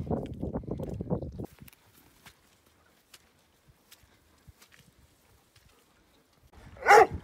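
A burst of rapid barking from a dog on a hike opens the clip, followed by quiet scattered taps and a short sharp sound at the end.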